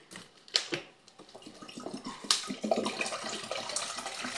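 Water for radish pickles pours in an uneven splashing stream from close by, with sharper splashes near the start and a steady gurgling pour after that.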